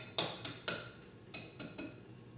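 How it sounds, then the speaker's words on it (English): A spoon stirs egg into brown sugar and butter in a bowl, making six distinct sharp taps and scrapes against the bowl in two quick groups of three, fairly quiet and close. "I'm stirring as she puts them in, so they're going in individually."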